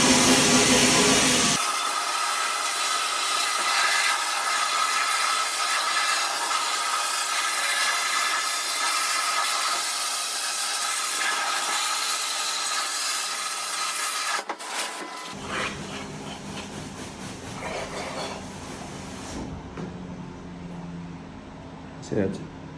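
Media blasting of Honda 200X triple clamps produces a loud, continuous broadband hiss of abrasive spray that holds steady for about fourteen seconds, then gives way to a quieter, fluctuating blast and handling sounds.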